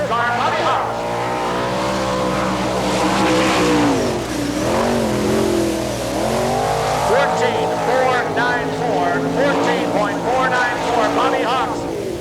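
A sprint race car circles a dirt track at the All Star Circuit of Champions Winternationals in Gibsonton, Florida, its engine roaring loud and close and rising and falling in pitch as it accelerates, with an announcer talking over it throughout.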